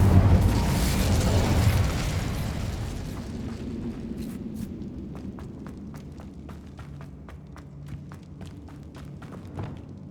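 An Incendio fire spell blasts in Hogwarts Legacy, a loud rumbling burst that fades into a lighter crackle with scattered sharp pops over ten seconds.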